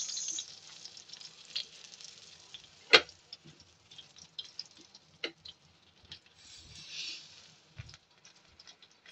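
Eggplant cooks in a pan for Bicol Express, a pork dish in coconut milk, giving a quiet, sparse sizzle of soft crackles and scattered ticks with one sharper pop early on.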